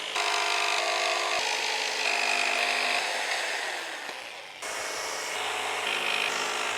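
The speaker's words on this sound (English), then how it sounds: "we're going to use a jigsaw to cut these out" Jigsaw cutting laminate flooring boards, a loud, steady buzzing blade cut that runs almost continuously with slight shifts in pitch and one brief dip partway through, and no talking.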